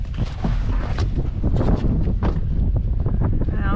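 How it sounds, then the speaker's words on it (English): Strong coastal wind near Carnarvon, Western Australia, buffets the microphone in loud, uneven gusts and rumbles, a roaring wash that rises and falls without speech. "It's windy here though."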